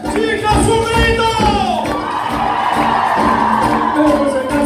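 Women in a festival crowd in Quito let out a loud collective shout on cue, a sustained burst of cheering and whooping with mixed voices.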